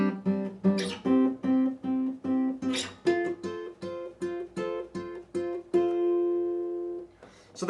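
Guitar chord progression for a rhythm figure, played at full speed: a steady run of short plucked chords changing pitch every few beats, ending on a sustained ringing chord, close and clear with no voices.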